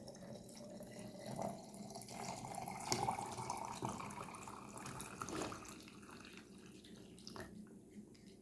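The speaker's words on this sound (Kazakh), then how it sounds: "Енді соңында суымызды құямыз." Water is poured into lemonade made with lime and lemon slices, a soft, steady splashing trickle heard up close, fairly quiet and running continuously with small bursts along the way.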